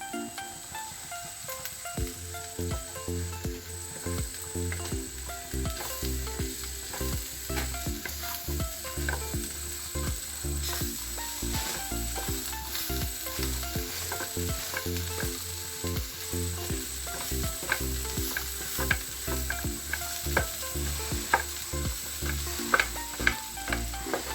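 Cooked chickpeas sizzling and frying in a pan, a steady crackling hiss broken by repeated clinks and scrapes of stirring, moderately close with no talking.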